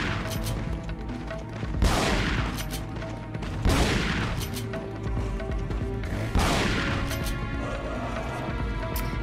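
Loud, booming shotgun blasts in Resident Evil 4: Separate Ways, about four heavy shots spaced a couple of seconds apart, each with a ringing decay, over a low game background.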